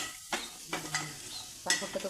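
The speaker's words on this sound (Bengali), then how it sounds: "লাস্ট অ্যান্ড ফিনিশিং খাবারটা চলছে পাঁপড় ভাজা" Papad crackling and sizzling in hot oil, in a few sharp bursts separated by brief quieter gaps, close by.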